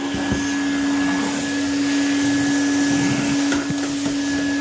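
Cheap Hoover vacuum cleaner running steadily with a constant loud motor whine and airflow hum, uninterrupted and close by.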